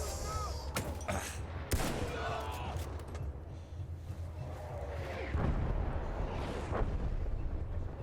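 Battlefield 1 video game gunfire: sharp, loud rifle shots cracking at irregular intervals amid rumbling battle noise and distant explosions, with a voice talking over it.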